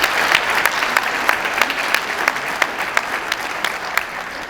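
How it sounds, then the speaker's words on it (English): School concert audience applauding the middle school honor band, a dense, steady roar of clapping from a sizable crowd with sharper nearby claps punctuating it, fairly loud and continuous. "Give another round of applause to our wonderful middle school honor band."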